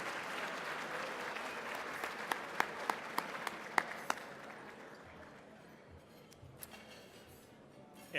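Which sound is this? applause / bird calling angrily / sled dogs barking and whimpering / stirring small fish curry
applause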